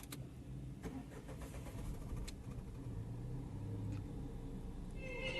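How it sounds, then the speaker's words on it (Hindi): A Tata Punch petrol engine cranks and catches, then settles into a steady low idle rumble heard from close by, with no talking. "अब इंजन को स्टार्ट करके इंजन का साउंड सुन लेते हैं।"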